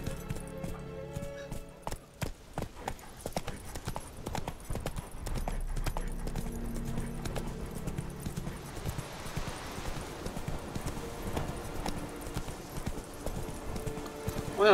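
A horse gallops in The Witcher 3: Wild Hunt, its hooves drumming in a fast, steady clip-clop rhythm that runs the whole time, moderately loud with no talk over it.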